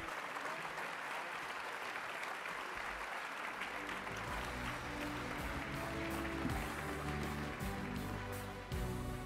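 A large audience at an agricultural harvest bowl gives a round of applause for county honorees, a dense and continuous clapping that swells and holds steady throughout.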